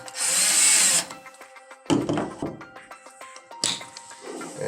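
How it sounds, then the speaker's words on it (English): A cordless drill drives screws into a MELTRIC DSN20 plug with an NPT threaded handle, whirring in short bursts with a long high whine at first and then quicker pulses, plus light clicks and knocks, close and loud. "a cordless drill works very nicely"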